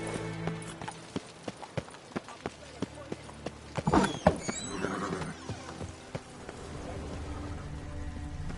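Roach, a horse in the video game The Witcher, galloping with steady, even hoofbeats over a damp surface, joined briefly by a louder rustling burst midway, with faint background voices.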